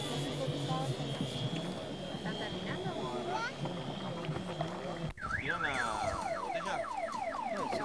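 A model airplane with an oversized engine runs continuously, a loud droning whine at an airfield whose pitch sweeps up and down as it passes. Several people talk over it throughout.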